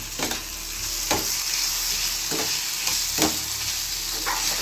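Chopped tomato fries in a pan for fish roe bhujia, a constant hiss of sizzling broken by four or five sharp scraping strokes of the stirring spoon at roughly one-second intervals, with no talking.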